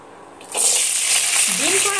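Cut vegetables for veg biryani, including beans and capsicum, hit hot oil in a pan and burst into a loud, bright sizzle that continues steadily, with a soft stirring scrape beneath.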